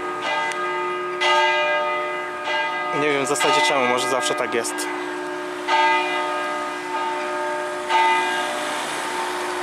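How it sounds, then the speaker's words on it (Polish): Church bells from a double belfry ring in repeated, resonant strokes with a long sustained hum beneath, and a person speaks briefly in the middle. "Coś tak dziwnie dzwony dzwonią, nie wiem dlaczego."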